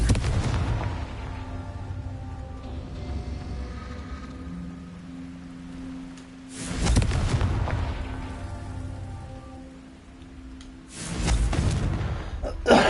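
A Confringo blasting curse goes off in Hogwarts Legacy. Loud, rumbling explosive bursts hit over a steady low ambient bed, with a big blast partway through and another near the end.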